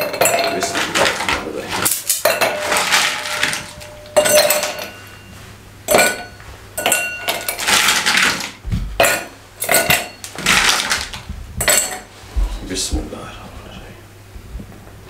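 Ice cubes dropped into a serving glass for fresh plum sharbat, producing a series of loud, close clinks and clatters in separate bursts, with a voice talking between them.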